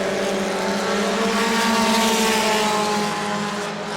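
Bomber class stock cars race around the New Smyrna oval track, a dense, steady engine roar from several cars at close range that holds loud throughout, with no talk.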